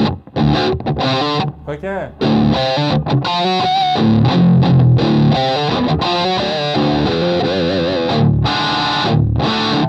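Distorted electric guitar on a Dark Scarlett Soth Custom Shop instrument, loud and sustained with dense gritty chords and bends, a brief spoken question near the start.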